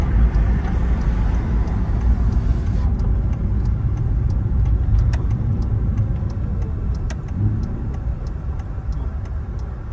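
Aston Martin Vantage driven at low speed, a steady loud engine and road rumble throughout with a brief rise in hiss early on as gears change, no talk heard.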